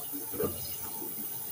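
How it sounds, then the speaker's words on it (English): Tap water runs steadily into a kitchen sink while dishes are washed, a soft broadband rush with a faint clink near the middle, no voices. "So I'm in here washing"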